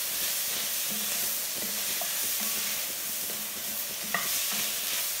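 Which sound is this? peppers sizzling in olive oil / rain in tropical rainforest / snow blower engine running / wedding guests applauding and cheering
peppers sizzling in olive oil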